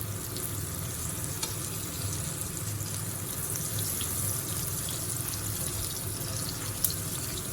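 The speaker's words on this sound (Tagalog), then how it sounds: "Let's fry this, guys, for only 3 minutes." Chikuwa pork rolls fry in a pan with a steady, dense sizzle and crackle that holds at an even level throughout, with one faint pop near the end.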